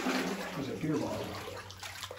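Water running and spilling over a ledge inside a flooded abandoned gold mine, a steady close rushing wash with someone talking over it.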